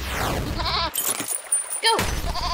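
A glitchy digital goat from the video game There Is No Game bleats loudly and nearby, warbling and distorted, over harsh electronic glitch noise and sudden gaps.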